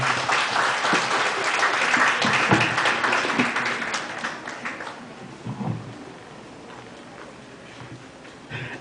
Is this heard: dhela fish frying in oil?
no